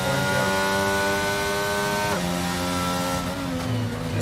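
Onboard race car engine from a racing video game at Bahrain, a loud steady high-pitched drone with strong harmonics that drops in pitch partway through as if shifting or lifting, continuous throughout.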